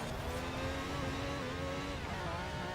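Rally car engine in the Forza Horizon 4 racing game, a continuous loud drone held at steady revs throughout, with no voices.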